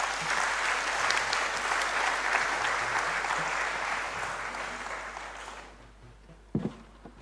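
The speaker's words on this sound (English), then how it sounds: "Let's give her another round of applause." A conference audience gives a sustained round of applause, steady and full, then gradually fading out, followed by a couple of brief knocks near the end.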